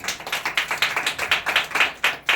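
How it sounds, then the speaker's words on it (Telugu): A church congregation clapping together in a steady, rhythmic beat, lively, close and loud, with no talking. "చప్పట్లు కొడతాం దేవుని మీద"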